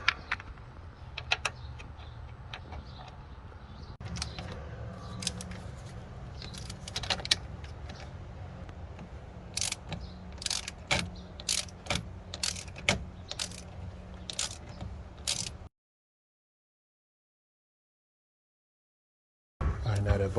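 An 8mm socket wrench ratchets off a battery terminal nut on a 2008 Ford Escape V6, with repeated sharp metallic clicks and light tool clatter close by, ending in a brief silence.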